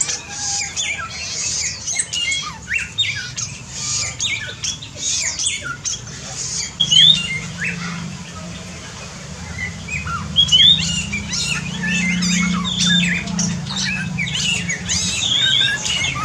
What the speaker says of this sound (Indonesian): masih sering terdengar bunyi burung-burung malam yang ada di aviary kita ini